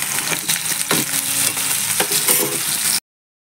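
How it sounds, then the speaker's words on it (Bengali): Cauliflower and potato sizzle in hot oil with spices and fish as they are stirred in a pan, giving a loud, steady crackle broken by scraping strokes of the spatula. "ফুলকপি আলুটাকে ভালো করে কষিয়ে নেব।"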